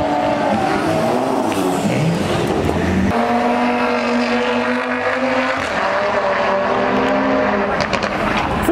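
Loud, continuous engine roar from Volkswagen 1.9 TDI cars drag racing, with rising revs and an abrupt gear-change shift midway, close and sustained throughout.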